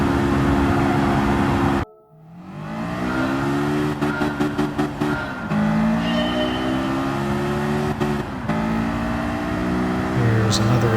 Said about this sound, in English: In the Livery Cannabis S2000, entering the tunnel, trying to keep the wheel as straight as possible, shifting to fifth early